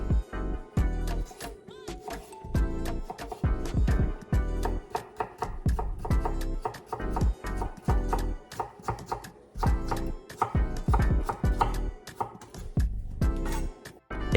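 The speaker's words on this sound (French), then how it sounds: "Ça, les oignons, les carottes, on va faire à peu près pareil. Au sens où on va faire des petits cubes." A knife chops onions and carrots into small cubes on a board, a long run of close, sharp, rapid knocks in an uneven rhythm with brief pauses, with no talking.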